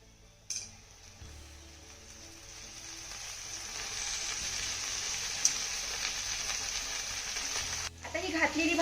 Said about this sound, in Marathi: आता यामध्ये ना आपल्याला मेथीची भाजी घालायची आहे.